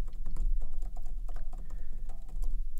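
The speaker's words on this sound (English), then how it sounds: "This is almost exactly like typing on a MacBook Pro or a MacBook Air" Rapid, even typing on an Apple iPad Pro keyboard accessory whose keys feel like a MacBook's, a steady stream of soft, close clicks with no talking.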